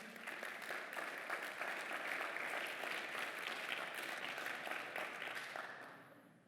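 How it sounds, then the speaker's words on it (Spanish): A church congregation applauds loudly in a long, dense wave of clapping that holds steady for several seconds and then fades toward the end, with no voices standing out. "Dale ese aplauso fuerte al Señor"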